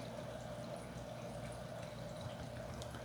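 A hang-on-back aquarium filter moves water over an under-gravel filter setup, producing a soft constant trickle and gurgle with faint drips, quiet and steady.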